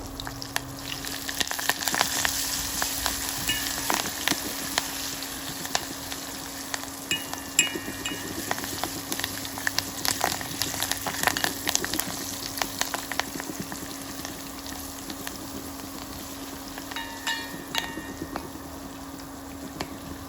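Curry leaves hit hot tempering oil with a continuous crackling sizzle, loud and steady for the whole stretch, with scattered sharp pops and spatters over a low hum.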